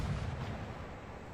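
Naval guns fire during a destroyer battle in a warship video game, giving a single faint, low rumbling boom that fades out over about a second.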